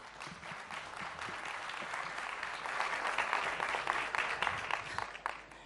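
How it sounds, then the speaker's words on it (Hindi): An audience applauds at a News18 Chaupal stage event, a sustained round of clapping that swells toward the middle and tapers off near the end, with no speech over it. "एक बार जोरदार तालियां।"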